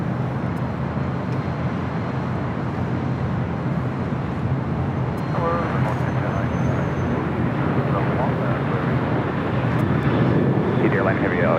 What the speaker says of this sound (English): A350 1000 touching down 25 left